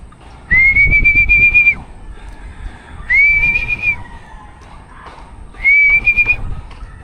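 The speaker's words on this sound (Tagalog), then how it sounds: "Pito sa labas" Three long, steady whistle blasts sound outdoors at a pigeon racing training toss in San Jose, each lasting about one to two seconds with short gaps between them, loud and clear over faint background noise.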